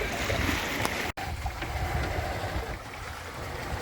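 Sea and wind rush steadily around a sailboat underway on an early summer holiday cruise, a broad continuous wash of water and gusting air, fairly close, with one brief dropout and no talk.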